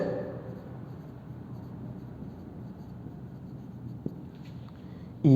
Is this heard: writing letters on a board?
yes